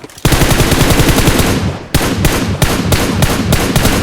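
Loud automatic gunfire in the battle royale game PUBG, a continuous rapid burst followed by a brief gap and several shorter bursts of shots, close and dominant with no voices.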